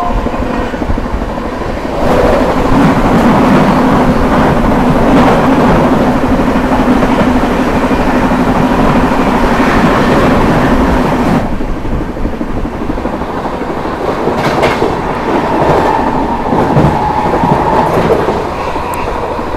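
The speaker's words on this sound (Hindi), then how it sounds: "यहाँ पर सामने से आती हुई मेरठ सिटी सूबेदारगंज संगम एक्सप्रेस" Meerut City–Subedarganj Sangam Express train approaching and passing close by, a loud continuous rumble of wheels and carriages with rhythmic rail clatter throughout.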